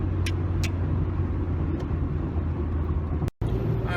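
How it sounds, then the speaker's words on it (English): Steady road traffic rumbles past continuously, cars and heavier vehicles blending into a loud, constant roar with a brief cut near the end. "And there's a bunch of traffic now"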